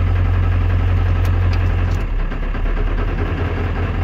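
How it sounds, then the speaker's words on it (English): Ford Powerstroke 7.3 diesel idling in neutral with a bell housing fault, a loud close low rumble with rough knocking vibration running throughout. "Back to neutral, it's noisy and nasty again."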